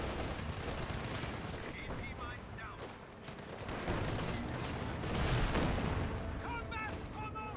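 MG34 machine gun fire in a Company of Heroes 2 battle, a steady rattle of rapid bursts mixed with booms and battle noise, running continuously under a commentator's voice.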